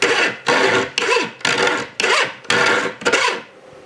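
A Coghlan's pocket saw cuts back and forth through a wood board in seven steady rasping strokes, each about half a second, loud and close with no talking.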